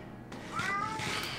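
A Siamese cat in a Minecraft village lets out a single drawn-out meow partway through, heard close over a quiet game background.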